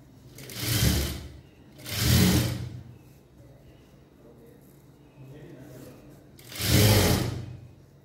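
A sewing machine stitches a child's skirt in three loud whirring bursts of about a second each, separated by quieter pauses, close by.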